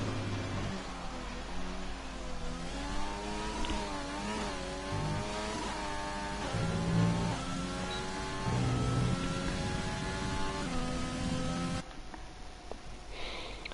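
A Formula 1 race car in a video game qualifying lap, its engine revving loudly and climbing through the gears with repeated rising pitch sweeps and brief dips at each shift, steady and close without talk.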